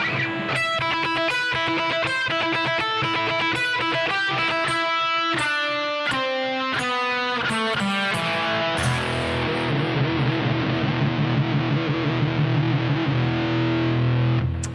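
Distorted electric guitar plays a quick run of picked notes from a song, then closes on a heavy ringing power chord that sustains and fades.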